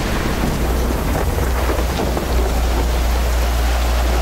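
Heavy rain pours down steadily outdoors beside a covered sand sculpture at Ibis Bay Resort, with low rumbling that suggests thunder underneath the continuous wash of rain.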